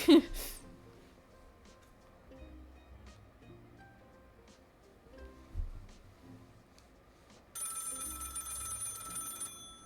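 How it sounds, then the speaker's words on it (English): A telephone rings in the video game Lil' Guardsman, a bright, sustained electronic ring entering loudly near the end over soft background game music and faint scattered tones. "The phone is ringing."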